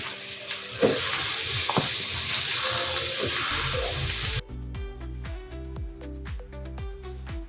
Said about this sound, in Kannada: ಈರುಳ್ಳಿ ಫ್ರೈ ಆಯಿತು ಕ್ಯಾಪ್ಸಿಕಮ್ ಹಾಕ್ತಾಯಿದ್ದೆ ನಾನು